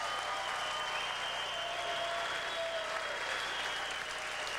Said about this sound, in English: how about a big round of applause for both of these great warriors?